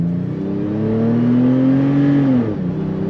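A 2022 Toyota 4Runner TRD Pro with a five-speed automatic pulls away from a standstill, its engine droning and rising steadily in pitch for about two and a half seconds before dropping at an upshift, close and loud.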